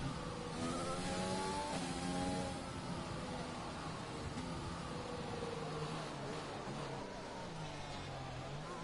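A Racing Point race car in a sim-racing game starts a flying lap at the Canada circuit, its engine note climbing and dropping through gear changes at steady, close volume.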